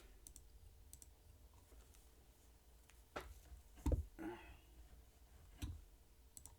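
Sparse computer keyboard key clicks from typing in a web browser, quiet scattered taps with a few louder clacks, close and faint with no talking.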